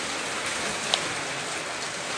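Steady rain pours down outdoors at dusk, a dense even hiss with one brief louder drip partway through, and no voices.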